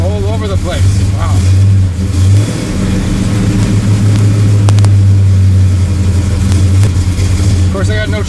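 A carbureted engine with no choke runs lean, idling unevenly and revving up and down in uneven bursts, close and loud, while someone talks over it.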